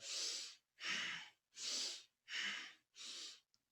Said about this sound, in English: we'll inhale left and exhale right, twisting the spine, using a powerful breath